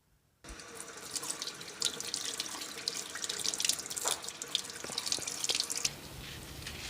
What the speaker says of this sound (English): rinse the sugarcane to make it easier to soak